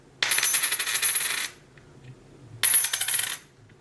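A US quarter drops onto a hard surface and rattles as it wobbles to a stop, then a second drop follows with the same bright ringing wobble.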